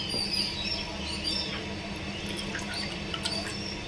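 Water is poured steadily from a cup into a pot on the stove to brew karpooravalli (Indian borage) leaf tea, a continuous close splashing and trickling with no one talking.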